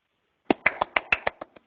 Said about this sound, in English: That's one woman clapping for the group.